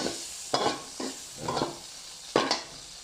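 Garlic fries in hot oil in a pan, a quiet steady sizzle broken by several scraping stirs at uneven intervals, heard close with no talking.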